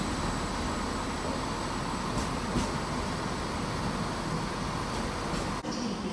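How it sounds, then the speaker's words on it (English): A passenger train at the Stansted Airport station platform, a steady broad rumble of wheels and running gear holding at an even level, with a faint high whine above it and a brief dip near the end. "Now arriving on platform 3 at Stansted Airport"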